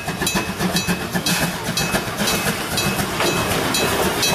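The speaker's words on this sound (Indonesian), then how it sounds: "Kereta api Thomas" A steady, noisy rumble of a toy Thomas train running, with rapid rhythmic clicking and a hissing texture throughout, fairly close and continuous.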